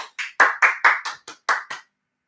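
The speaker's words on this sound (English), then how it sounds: "let's give ourselves a nice well-earned round of applause." A single person claps eight sharp, close claps in an uneven rhythm at the end of a seated exercise class for older people, then silence.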